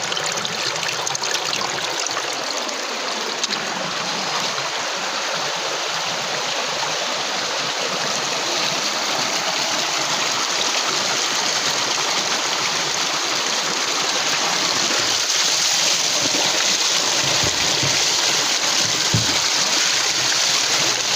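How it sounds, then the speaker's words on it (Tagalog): Spring water streaming down a hillside channel near Antipolo, a steady broadband rush and trickle that runs continuously and fairly loud throughout, with no talk over it. "yung mga agos na tubig"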